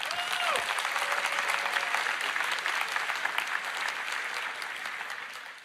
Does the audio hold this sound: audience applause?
yes